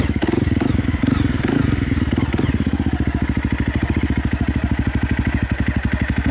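A Honda CRF250L motorcycle with an FMF exhaust, geared 13T front and 45T rear, runs up close. It gives a loud, rapid, steady thumping exhaust beat that revs slightly early on, then settles into an even pulse.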